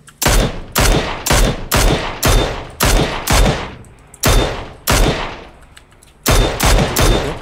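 Gunfire in a Korean-language battle royale squad game: repeated loud bursts of automatic fire, about nine close sharp volleys separated by brief gaps, with no talk.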